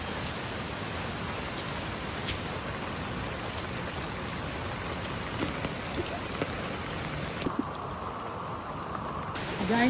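Heavy rain pours steadily during a flood, a dense continuous hiss of downpour on surfaces that stays loud and even throughout with no voices.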